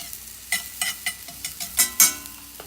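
Sweet potato tortilla frying in oil in a skillet: a low, steady sizzle punctuated by a series of light, sharp clicks and scrapes at irregular intervals, close by with no talking.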